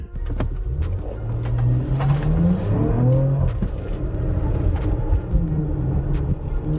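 A rented Porsche sports car accelerates hard, its engine revving up loud and close through rising gears with brief shift dips, heard from inside the car.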